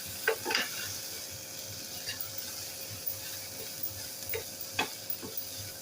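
Chicken masala frying in a pan with a steady quiet sizzle, broken by a few scraping stirs of a spoon against the pan at irregular intervals.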